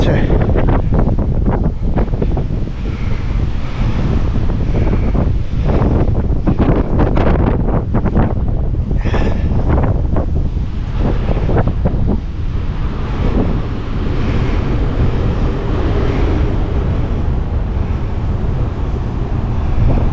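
Strong wind buffets the microphone in loud, gusty bursts on a cruise ship deck, with a constant roar underneath and a voice speaking faintly at times.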